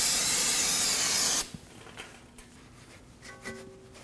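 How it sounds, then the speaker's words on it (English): Brake cleaner blasts in a loud, steady aerosol hiss onto the rear brake area of a 2013-2015 Subaru XV Crosstrek for about a second and a half, then cuts off, leaving faint clicks and light handling noises. "We'll spray this area down with some brake clean and wipe it down with a rag."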